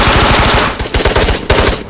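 Fast automatic machine gun bursts in the VR shooter Ghost of Tabor, loud and close, with rapid rhythmic shots and a short pause between bursts.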